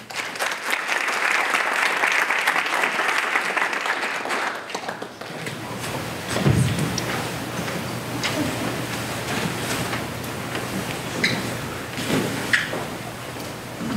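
A lecture-hall audience gives loud, sustained applause welcoming presenter Dr. Jerrold Shapiro, thinning after about five seconds into scattered claps, shuffling and thumps.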